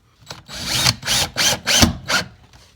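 Power drill driving screws to fix a junction box onto a shop air filtration unit: four close, loud whirring bursts, each about a third of a second, separated by short pauses, with no talk.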